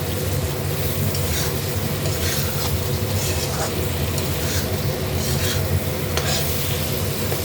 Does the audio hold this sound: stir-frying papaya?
yes